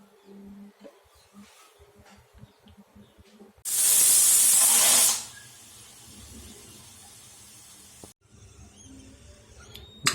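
Pressure cooker on the stove cooking tapioca root, letting off one loud hissing whistle of steam for about a second and a half that cuts off abruptly, with quiet kitchen sounds around it.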